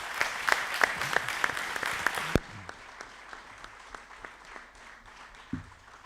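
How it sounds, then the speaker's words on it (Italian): Audience applause at an Italian book presentation in a hall, crisp clapping from a modest crowd that cuts off sharply partway through, leaving quieter scattered claps and a faint room tone with an isolated thump near the end. "credo che meriti davvero un grosso applauso"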